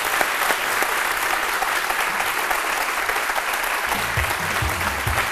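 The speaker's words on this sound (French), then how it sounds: "Son nom, c'est Hélène Gogbe, que je vous demande d'applaudir." Sustained audience applause at a television studio show in Côte d'Ivoire, dense steady clapping filling the whole stretch at an even level, with no voices standing out.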